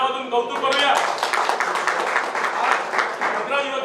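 An audience applauds newly elected municipal councillors at a swearing-in ceremony, a steady dense round of clapping from many hands, fairly loud and sustained with a babble of voices underneath.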